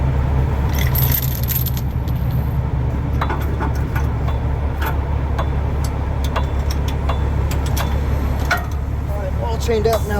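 Metal chains rattle and clink in scattered bursts while a loaded straight fuel tanker is chained up for towing by a wrecker, over a steady low engine idle and outdoor background noise.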